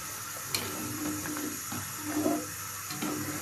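Chicken curry broth for murgir lotpoti boils in a pot at a steady, close bubbling and watery churn, with a brief clink near the start and soft burbling swells throughout.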